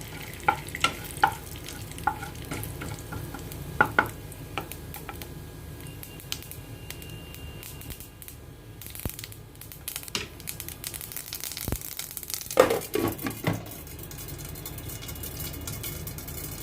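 Tempering spices for a Hyderabadi bitter gourd saalan crackle in hot oil over high heat: scattered sharp pops and clicks over a low frying hiss, bunching into a denser flurry of crackles toward the end.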